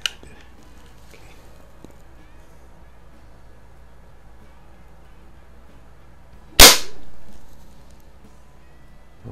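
A Daisy Powerline 1200 CO2 BB pistol fires a single sharp, close crack followed by a brief decaying hiss, with faint quiet handling sounds before it.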